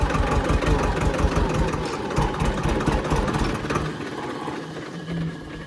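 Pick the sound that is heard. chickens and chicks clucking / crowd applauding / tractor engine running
tractor engine running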